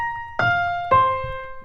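Stacked fourth intervals struck as pure, bell-like synthesized chords, two sustained hits about half a second apart ringing out cleanly over near silence.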